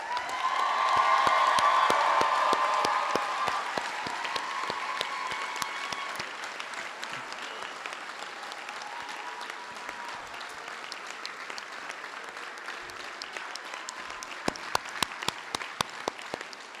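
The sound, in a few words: audience applauding graduates at graduation ceremony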